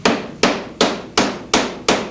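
Hammer tapping hooks onto a mustard barrel at a sardine museum, six loud sharp metallic knocks at an even, steady pace, close and ringing briefly after each strike.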